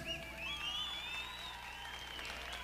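Steady applause from women in a live rock concert audience fills the clip, with excited voices and whoops rising over the clapping.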